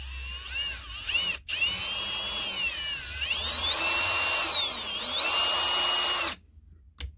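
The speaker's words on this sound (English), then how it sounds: "All we want to do is put your barrel trimmer in." Power drill spinning a barrel trimmer for woodturning, a loud steady whine with shifting high tones, briefly cut out once and stopping near the end.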